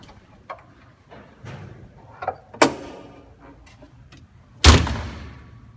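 The adjustable rear window of a forklift slides and is shut, with a few light clicks and knocks, then a sharp clack as it latches, followed by a brief ringing rattle.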